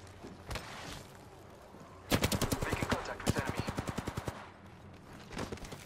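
A video game firefight breaks out in a loud, fast burst of automatic gunfire. A second steady rattle follows, with scattered shots before and after. It sounds close and sharp, with talk faintly underneath.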